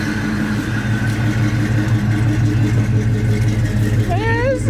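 A Chevy C10 engine fitted with a new Edelbrock AVS2 carburetor, running after sitting seven years, holds a steady low rumbling idle up close and then revs up near the end.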